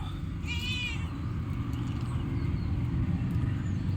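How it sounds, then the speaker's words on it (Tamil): A cat gives one short meow early on, faint against steady low background rumble and outdoor noise, with the rest of the stretch just ambient sound. "பார் எங்கள் பூனை வந்துடுச்சு பாருங்கள் இவர் தான் எங்கள் பூனை"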